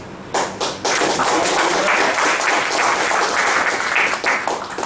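Members of a Toastmasters club audience clap together, a brief hesitant start giving way to sustained, fairly loud applause that carries on steadily to the end.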